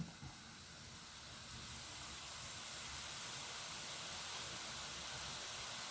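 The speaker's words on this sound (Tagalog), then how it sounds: "Yan, kumukulo na siya." Faint, steady bubbling and hissing of bistek sauce simmering in a pan with fried tilapia continues evenly with no talking.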